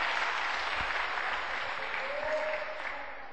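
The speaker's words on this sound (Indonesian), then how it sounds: "Tepuk tangan." A seminar audience claps together in a steady, even burst of applause that tapers off toward the end, heard from a moderate distance in an indoor room.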